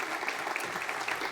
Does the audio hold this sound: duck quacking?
no